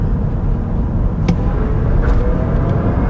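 A 2022 Chevrolet Bolt EV accelerates hard from 30 mph, heard from inside the cabin as a steady, dense road and tyre rumble with a faint electric whine riding on top. No engine roar, and the sound stays constant through the clip.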